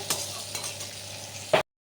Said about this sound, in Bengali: আলুটাকে নুন হলুদ দিয়ে ভালো করে ভেজে নিয়েছি আর তার মধ্যে দিয়ে দিলাম টমেটো